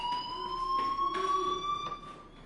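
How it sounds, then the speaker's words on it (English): An electronic fire alarm in the video game Life Is Strange rings as a steady high tone with pulsing bursts, fairly loud and close, with no talking over it. "Hey, do you hear that fire alarm?"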